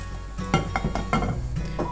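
Dry roasted spices clatter and scrape against metal as they are tipped into a vessel, with a few sharp clinks and light rattling bursts.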